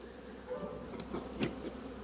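Honey bees buzz around open beehives fitted with white robber screens during mite treatment, a faint, steady hum with a few slightly louder passes of individual bees drifting close.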